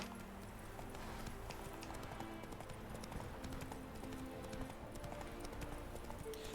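Galloping horse hooves in The Witcher 3, a steady, fast clip-clop running continuously close up over a dense bed of game ambience and music, with no pause throughout.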